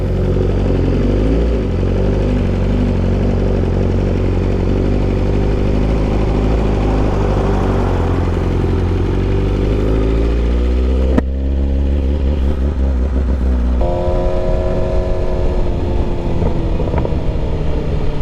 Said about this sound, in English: There's that snap, crackle, and pop you guys want so bad.